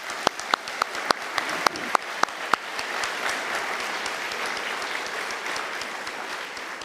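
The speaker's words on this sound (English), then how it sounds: "And we can give them a round of applause." A university conferring ceremony audience applauds: a few sharp, separate claps open into dense, sustained clapping from a large crowd that holds steady to the end.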